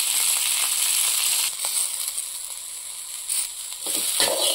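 Green chillies sizzle steadily in hot oil in a pan for tomato chutney, a continuous close frying hiss with brief dips and crackles, no talking.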